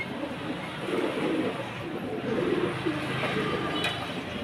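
Pigeons coo in a loft of fancy pigeons, soft throaty calls rising and falling at close range over a low room murmur, with a brief faint click near the end.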